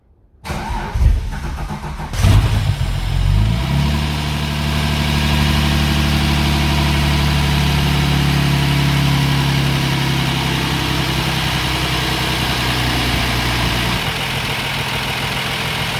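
A freshly built engine in a cheap race car cranks with a whirring starter, catches with a loud bark, then settles into a steady, rumbling idle with a throbbing low tone, close and loud, with no one speaking.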